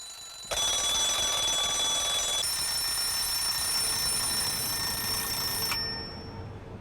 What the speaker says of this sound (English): We know it's time to get up when the alarm clock starts to ring.